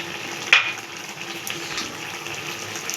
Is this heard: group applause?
no